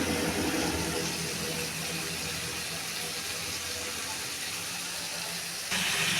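Tomato and spice masala sizzles and fries steadily in hot oil for a vegetarian potato and soybean dish, a continuous close crackling hiss with no voices.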